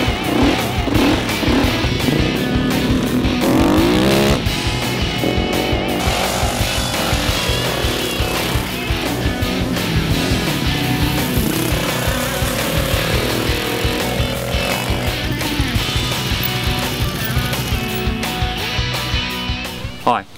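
A dirt bike engine revs and roars loudly up close, rising and falling as it rides, with a voice talking over it.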